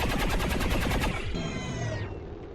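Rapid burst of beam cannon fire in the sci-fi strategy game XCOM 2: loud, dense rhythmic pulses of energy shots for about two seconds, ending in a descending electronic whine that fades out.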